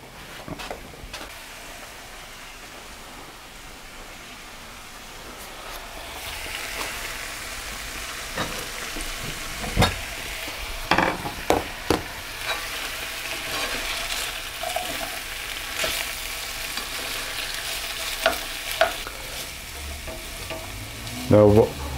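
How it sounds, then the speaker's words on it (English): Onions and garlic sizzle steadily in a pan while cooking for a steak and mushroom pie. Intermittent clinks and scrapes of stirring break through the continuous frying hiss. "Now, while the onions and the garlic are sautéing"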